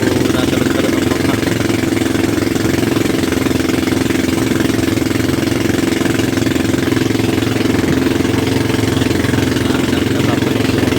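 A boat's outboard engine drones loud and steady throughout a sea crossing from Lobo toward Mindoro, with a constant rumble and no break.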